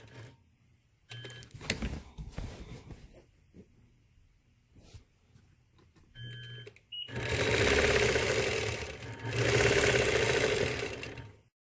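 A sewing machine quilting along a bird bracket chain ruler runs in two loud, steady bursts of fast stitching, after quieter stretches of soft clicks and handling noises.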